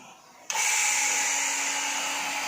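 A vacuum pump on a small-scale biodiesel reactor switches on abruptly after a quiet moment and settles into a loud, steady whine with a constant tonal hum.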